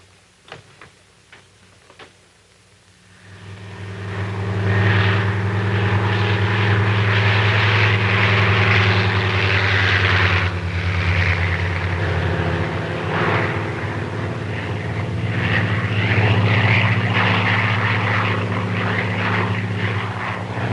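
A propeller airplane engine swells from quiet clicks into a loud, sustained droning roar as the plane takes off and climbs, holding steady with slight pulsing.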